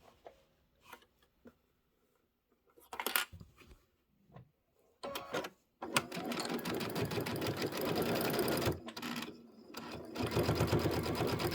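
A sewing machine pieces a quilted table topper, starting with a few short stitching bursts and handling clicks before settling into a long, steady, close run of stitching with brief pauses.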